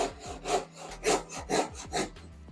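A hand saw cuts through the end of a wooden frame in a doorway opening, with about five steady back-and-forth rasping strokes, close up and with no talking.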